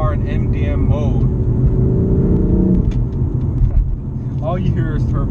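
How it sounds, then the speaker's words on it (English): BMW M4 inline-six turbo engine accelerating hard on a flat-out drive, a loud deep rumble and whirring turbo from inside the car, rising in pitch, with someone talking over it at the start and end. "I love that sound of the inline six."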